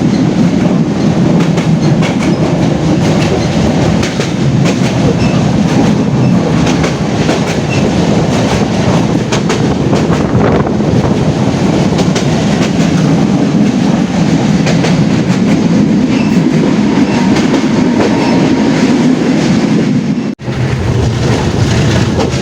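A train on the Jashore to Khulna route runs steadily and loudly for a long stretch, a constant rolling roar with clickety-clack wheel rhythm, heard from on board and briefly dipping near the end.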